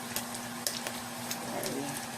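Bacon frying on a griddle gives a steady crackling sizzle punctuated by several sharp scrapes and taps of a spatula, close and moderately quiet, with a low hum underneath.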